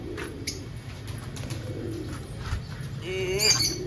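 Pigeons coo softly nearby, with a brief flutter of wings and light chirps over a quiet background.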